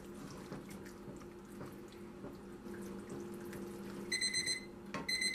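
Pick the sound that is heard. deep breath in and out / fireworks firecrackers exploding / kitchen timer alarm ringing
kitchen timer alarm ringing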